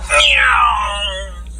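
A single loud, close cat meow, sliding downward in pitch and fading out over a second or so.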